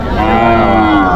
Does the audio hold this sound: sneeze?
no